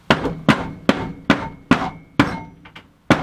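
A cold process soap mold is tapped down on a surface to settle the batter, eight sharp knocks at a steady, roughly half-second rhythm, each ringing briefly before fading, close and loud with no talk.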